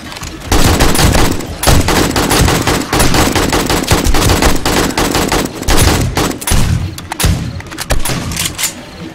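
Rapid shotgun and other gunfire from the video game 7 Days to Die, loud and dense bursts of shots running almost continuously, with a few brief pauses between volleys.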